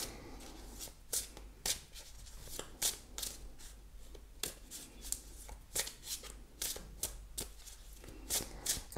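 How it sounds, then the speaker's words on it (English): A tarot card deck is shuffled by hand for a long stretch, a quick series of sharp crisp riffles and taps at an uneven rhythm, close and quiet with no talking. "Shuffling for quite a while."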